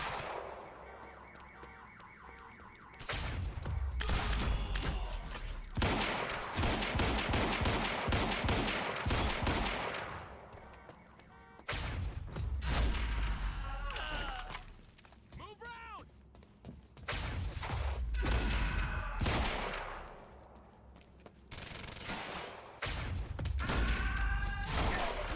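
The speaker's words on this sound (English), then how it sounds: "I do like this machine gun" Bursts of rapid machine gun fire in the video game Quantum Break, several loud sustained volleys separated by short pauses, with impacts and game effects mixed in.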